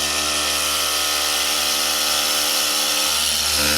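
A polisher runs at speed 3 on the paint of a Porsche 992 GT3 Touring in Brewster Green, a loud, close, steady whirring drone that holds an even pitch throughout with no talk.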